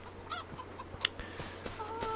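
Chickens in the Farming Simulator 25 video game cluck and squawk in short, faint bursts over a quiet background, with one sharper call standing out midway.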